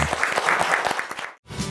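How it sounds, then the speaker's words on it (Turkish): Studio audience on a TV cooking show applauding the bride contestants, brisk close clapping that cuts out abruptly to silence near the end before a brief burst resumes. "Bütün gelinlerimizi de alkışlayalım lütfen."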